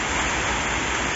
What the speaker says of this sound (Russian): Еще и дождь начался